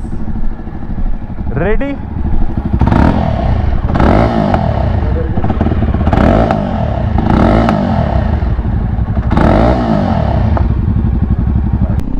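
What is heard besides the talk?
Jawa Perak motorcycle engine running and revving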